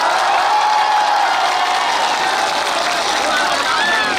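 Loud, continuous crowd applause and cheering at a public event honouring Sanjay Dutt, a dense roar of clapping and shouts that holds steady without a break.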